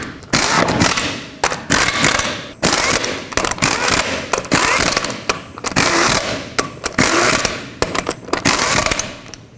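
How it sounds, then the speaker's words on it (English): A Chevrolet Express wheel is mounted as its lug nuts are run down and torqued, with loud, close bursts of rapid rattling impact or ratchet noise separated by short pauses. "Start on all of your lug nuts, bottom them out, and then torque them to 140 foot-pounds"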